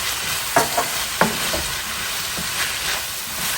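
A teaspoon of chili paste is stirred in an oiled frying pan for stir-fry noodles, with a steady close sizzle broken by a few scraping clinks of the utensil.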